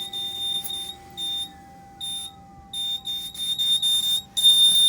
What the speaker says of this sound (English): We'll try to get this smoke detector to work.